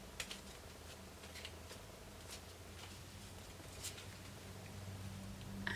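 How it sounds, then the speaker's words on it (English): A deck of playing cards being shuffled, a quiet rapid patter of riffling clicks running steadily for several seconds, close by and without talk. "I'm going to shuffle these one last time."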